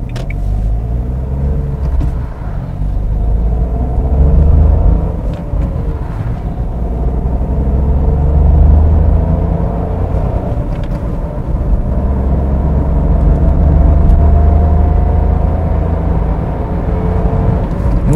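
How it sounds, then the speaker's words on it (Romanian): A Dacia Jogger 1.0 ECO-G with a six-speed manual pulls away from a standstill on petrol in eco mode, a loud low engine drone rising and settling through gear changes, heard from inside the cabin. "Și o plecare de pe loc pe benzină în eco."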